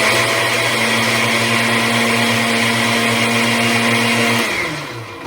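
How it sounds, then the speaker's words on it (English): A blender runs loud and steady, mixing beet root powder with juice, its motor whirring evenly for several seconds before spinning down at the end. "And then just run the blender for a few seconds."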